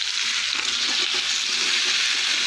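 Cut taro pieces frying in a pan, a dense, loud, continuous sizzle with steady hiss and light stirring, no one talking.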